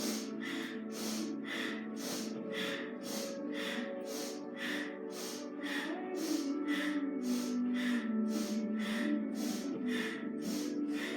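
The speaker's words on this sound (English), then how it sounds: "Can you go a little bit quicker? Inhale, exhale, really get that energy moving." Rapid yoga breathing, inhaling and exhaling quickly through the nose in a steady fast rhythm of about two breaths per second, close and even, over a soft sustained music tone.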